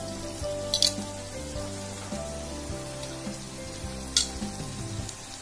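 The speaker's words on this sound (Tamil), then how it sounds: "நல்லா கிளறி விடுங்க." Sliced okra fries with masala in a pan, sizzling and crackling steadily up close while a spoon stirs it, with a few sharp scrapes against the pan.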